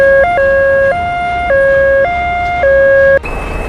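Ambulance siren on a highway, a loud, close two-tone wail alternating steadily between high and low pitches before cutting off abruptly into traffic noise.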